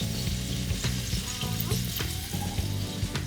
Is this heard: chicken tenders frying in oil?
yes